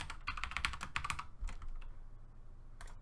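Typing a password on a computer keyboard: a rapid cluster of close, crisp key clicks, then a pause and a few more isolated taps, with no voices.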